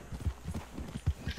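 Horse hooves clip-clop in an uneven trotting rhythm across roughly six distinct strikes in Red Dead Redemption 2, fairly close and moderately quiet with no talk over them.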